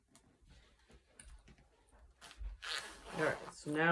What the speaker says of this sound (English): I'm going to add my zipper pull just so that I can ensure that my panels don't come apart